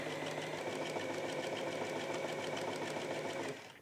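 A sewing machine stitches a laundry bag shut with a fast, steady mechanical chatter at close range, running continuously for a few seconds before stopping abruptly.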